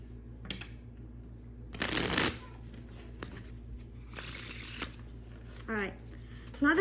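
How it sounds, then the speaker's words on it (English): A deck of playing cards is shuffled in several quick riffling bursts, close and crisp, separated by quieter pauses with faint handling noises in between. "And now, I'll shuffle it again just for good measure."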